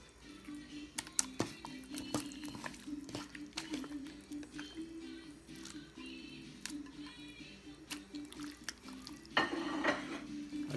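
Seasoned chicken is stirred in a pan with soft, uneven scraping and clinking of a utensil against the cookware, over a steady low hum of the stove.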